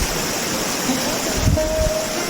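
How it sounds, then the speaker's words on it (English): Glacial meltwater stream in the Garhwal Himalayas on the Gaumukh trek toward the Bhagirathi, rushing as a steady, close broadband roar of flowing water with no voices. "These melting glaciers water streams coming down from the peaks of different mountains of Garhwal Himalayas and meet with the main stream of Bhagirathi."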